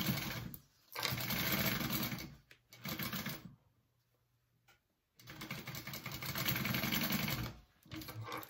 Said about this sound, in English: And then we're gonna sew up our zipper pocket sides,